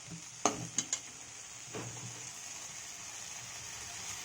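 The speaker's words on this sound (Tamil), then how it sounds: "இப்போ இஞ்சி பூண்டு பேஸ்ட் போட்டு நல்லா வதங்கிட்டு" Ginger garlic paste sautéing in a pan gives a soft, steady sizzle, with a few sharp spoon-against-pan clicks early on and a brief stirring scrape, and no voices.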